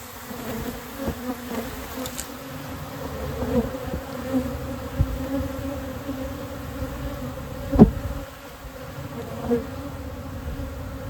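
A strong honey bee hive going into winter pours its bees out, giving a continuous dense buzzing close by, with brief louder swells and one sharp spike late on.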